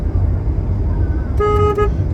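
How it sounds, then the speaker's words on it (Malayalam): A car horn gives a short double honk close by, over a steady road and engine rumble, while the car turns left. "ഹോൺ അടിച്ച്"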